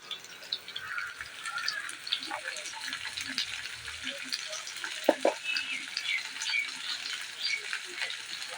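Salted potatoes are stirred in a frying pan, with a soft continuous sizzle and light scraping from a utensil, quiet and close, plus a few faint clinks.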